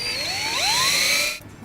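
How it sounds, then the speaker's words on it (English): Power drill boring into plastic aquaponics plumbing, a short whining bite with pitch sweeping upward as the bit cuts, fairly quiet and close, stopping abruptly. "and then start drilling"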